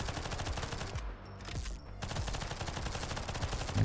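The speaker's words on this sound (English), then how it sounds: "Keep shooting, lots of explosions." Rapid automatic gunfire from the top-down shooter NIMRODS: GunCraft Survivor, dense and loud bursts that fill the clip, briefly dipping near the middle before resuming at full intensity with explosions mixed in.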